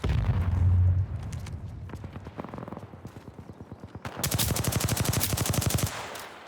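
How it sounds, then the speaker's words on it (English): Rapid video-game gunfire from enemies, loud bursts of automatic shots in quick rhythmic succession, with a dense sustained volley near the end over game effects. "The enemies are shooting at me."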